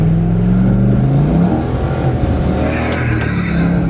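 A C5 Chevrolet Corvette Z06 accelerates hard with wheelspin, loud engine revving rising in pitch against faint tire squeal for about four seconds, with no talk.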